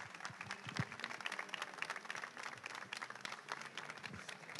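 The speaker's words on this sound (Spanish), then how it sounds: "Un aplauso para ellos." Crowd applause for Spanish game developers at an awards ceremony, steady dense clapping from a room of people, heard from a distance and fairly quiet.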